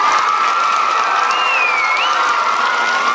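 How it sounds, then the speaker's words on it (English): A school audience at a surprise homecoming of an Army captain fills the space with loud, continuous applause and cheering that holds steady throughout. "then the gasps and applause."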